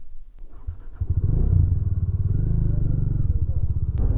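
A Bajaj Dominar 400 motorcycle is ridden along, its engine throbbing in a steady low pulsing rumble that grows louder after a second, heard close and continuous throughout.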